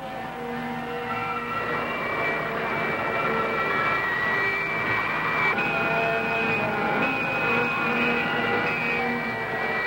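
Spacecraft engine thrust building in a 1965 film, a continuous loud roaring whine with steady tonal layers that shifts upward partway through, heard alone without talk.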